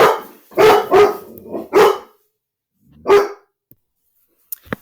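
Two dogs bark indoors close by, loud and sharp: a quick burst of three barks, a short pause, one more bark, then a final bark after a silent gap.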